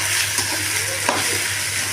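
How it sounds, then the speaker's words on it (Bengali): Taro paste mixed with garlic frying in hot oil, a loud close sizzle with stirring scrapes throughout and a sharper clack near the middle; no voices. "এখন আমি সম্পূর্ণ কচু বাটার মিশ্রণটা ছেড়ে দেবো।"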